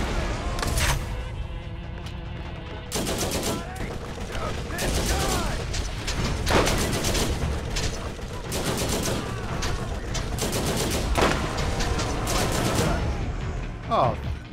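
Rapid turret gunfire in Borderlands, a dense barrage of repeated shots and booming impacts that continues almost without pause, with a voice speaking over parts of it.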